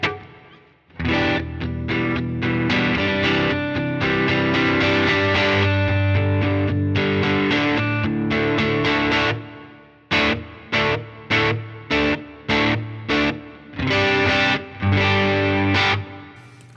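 Distorted electric guitar plays a rhythm part through the Ganymede reverb on an HX Stomp set to a short room reverb: sustained chords for about nine seconds, then a run of short, choppy stabs with brief decays between them.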